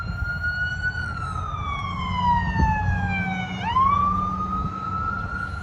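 A wailing ambulance siren sweeps up and down, loud and close, over steady traffic rumble as the ambulance passes by.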